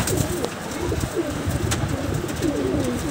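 Giribaz pigeons in a loft coo in soft, repeated rolling calls, close by over a low background hum.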